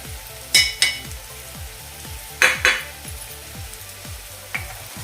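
Gram flour stir-fried with spices in a pan for bhendi masala, giving a soft steady sizzle with a few sharp scrapes and clinks of the spoon against the pan.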